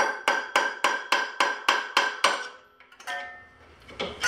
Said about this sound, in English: we're gonna hit the crankshaft to give it some vibration shock